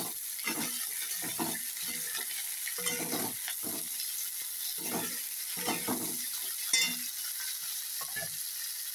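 Bottle gourd being fried and stirred in a pan: a steady hiss of sizzling under repeated scraping strokes of a spatula, moderately close, with no talking.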